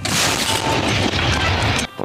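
A loud, heavy tank cannon blast fills the air with a roaring boom that rumbles on before cutting off abruptly.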